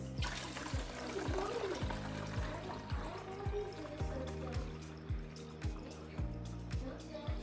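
Goat milk replacer pours from a container into a baby bottle, a wet, bubbling stream with gurgling glugs that come in quick repeated pulses, moderately close and alone without any talk.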